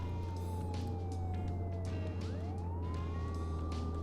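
A police car siren wails in rising and falling sweeps over a steady low engine drone inside a moving vehicle, heard alone and fairly faint.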